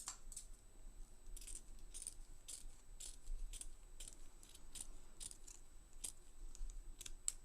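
Scissors snip repeatedly through material, crisp cutting sounds in an irregular rhythm, close and fairly quiet with no talking.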